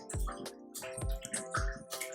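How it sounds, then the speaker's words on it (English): Rapid, rhythmic lapping of water, wet slurps repeating in quick succession close by, with no voices. "That's my dog drinking water."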